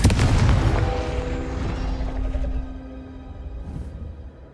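A Confringo explosive spell blasting in the Hogwarts Legacy video game, one heavy booming impact at the start that rumbles and slowly fades over several seconds, loud and alone.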